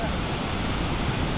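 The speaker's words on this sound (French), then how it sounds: "On est à des cascades" Waterfalls in Vietnam give a dense, steady roar of rushing water, loud and constant, with no pauses.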